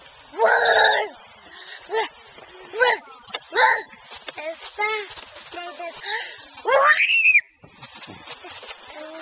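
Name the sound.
child imitating a monster scream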